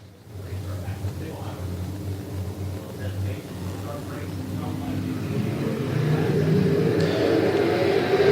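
Dirt late model race cars roar and accelerate together on a restart at a night race of a dirt track week, the engine noise building louder toward the end under continuous commentary.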